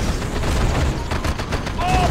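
Continuous battle gunfire from units in Red Alert 2, dense overlapping shots and booms that stay loud throughout, with a faint game voice cue near the end.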